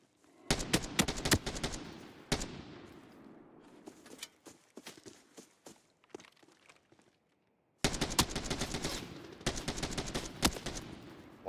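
Automatic rifle fire in the shooter game Arena Breakout Infinite rips out in loud, rapid bursts, then single scattered shots and footsteps during a lull, a few seconds of silence, and another long sustained burst.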